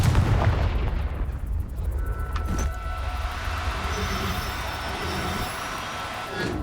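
Confringo blasting curse in Hogwarts Legacy, heard as a loud booming explosion at the start that fades into a rumbling, ringing tail, with no talk over it.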